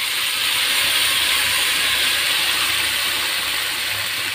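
Radish greens hit hot oil with tempering spices and give a loud, even hiss of sizzling that holds steady throughout.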